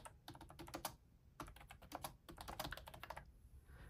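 An external keyboard connected to a Boox Palma is typed on in quick bursts of close, crisp key clicks, pausing briefly between runs.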